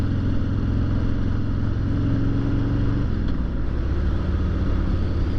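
Harley-Davidson motorcycle engine at riding speed, a steady low rumble with a faint shift in pitch partway through, loud and close with wind noise and no talk.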